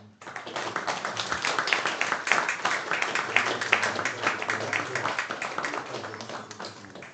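Audience applause at the start of a lecture, brisk clapping from a room of people that swells quickly, holds steady for several seconds, then gradually thins out.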